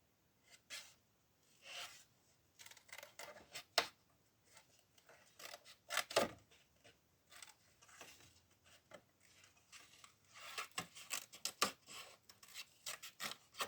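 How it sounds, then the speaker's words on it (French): Scissors roughly cut out paper for a vintage botanical photo card, giving close, irregular snips and rasping slices with soft rustling of the sheet between cuts. "Je découpe grossièrement, c'est pas grave."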